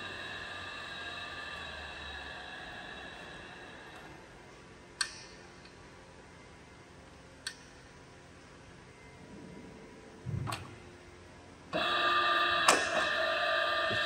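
A Soraluce TRO-1250 radial arm drill from Spain turns its spindle at a slow 29 rpm, giving a low steady machine hum with a few sharp isolated ticks, then a louder burst of mechanical noise near the end.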